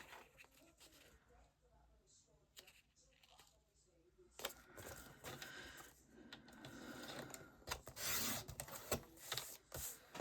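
Craft papers being cut together on a paper trimmer, with soft scraping and rubbing at first, then louder sliding, rasping blade strokes and handling noise close by.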